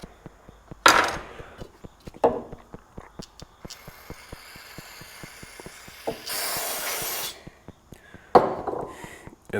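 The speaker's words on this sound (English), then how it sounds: "Spray this side a little bit more here." Several short hissing bursts of a spray can aimed at the carburetor of a Honda TRX 125 ATV, separated by quiet gaps and light clicking, with one longer spray near the middle, close and fairly loud.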